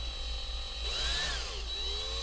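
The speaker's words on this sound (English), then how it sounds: "we're just going to drill" A power drill whirs briefly, its pitch shifting up and down as it bores into a wall, close and fairly loud.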